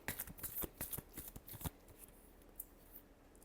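Tarot cards shuffled by hand for a Libra love reading, a quick run of crisp riffling snaps close up for under two seconds, then fading to quiet handling with a stray soft flick.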